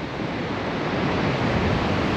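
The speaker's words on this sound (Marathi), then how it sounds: "तर हा आहे वेल्डेश्वरचा समुद्र किनारा." Sea waves wash steadily onto Veldeshwar beach, a continuous broad roar of surf with some wind and no voices.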